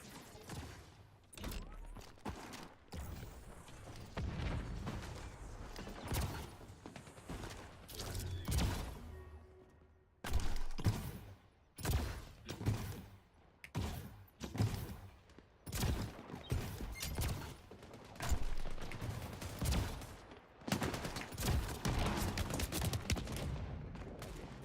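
Rapid bursts of gunfire from the Empulse paint gun in a shooter video game, a near, loud stream of repeated shots and thuds running almost continuously with brief pauses.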